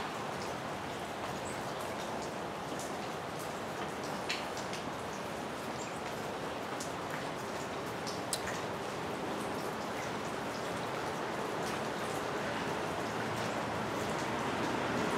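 Steady rain falling beside US Highway 61, a dense even patter with occasional sharper drops, with a soft wash of passing vehicles underneath, continuous and moderately loud throughout.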